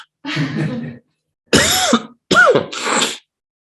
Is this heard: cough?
yes